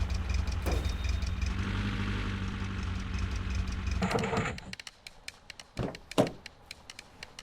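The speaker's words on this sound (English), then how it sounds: "My engine sounds especially unhappy right now." Car engine idling in The Long Drive video game, a steady low rumble for about four seconds that cuts off abruptly, followed by a few sharp knocks and clunks against near silence.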